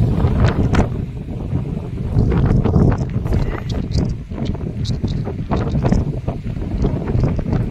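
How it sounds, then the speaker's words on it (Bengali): Strong gusts of wind at a beach area in Oman buffet the microphone in loud, rumbling bursts, with faint knocks and rattles scattered through the roar. "প্রচন্ড হাওয়া।"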